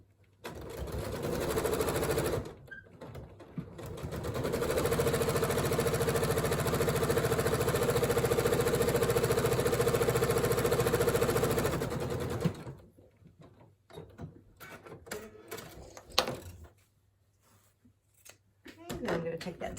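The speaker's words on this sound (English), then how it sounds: "I'm going to flip it around and sew my solid strip to the other side of my print." Sewing machine stitching a solid fabric strip onto a print for foundation piecing, a steady whirring run of several seconds preceded by a short burst, then quieter handling clicks and rustling afterward.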